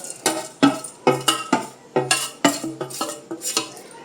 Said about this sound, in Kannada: ಈಗೆಲ್ಲ ಹಾಕಿ ಮಿಕ್ಸ್ ಮಾಡೋದು.